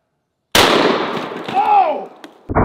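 A shotgun fires a 3.5 inch 00 buckshot shell through two household walls: one loud, close blast with a long ringing decay, followed by a brief clatter near the end.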